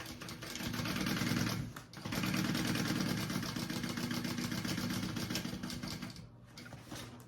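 A sewing machine runs steadily, stitching a pocket piece onto a bag with the lining pulled aside, its motor humming in a continuous whirring drone with one brief pause partway through and a short stop near the end.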